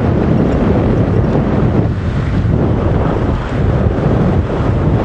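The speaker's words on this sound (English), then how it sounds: "This gusting wind off of the water." Loud gusting wind off the water pounds the microphone on a dam wall in a dense, unbroken rumble, close and steady, with no other sounds or voices.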